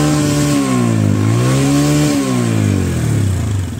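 A TVS Apache motorcycle engine is revved hard up close, pitch climbing and dropping in a couple of throttle blips, loud and buzzy, then settling lower.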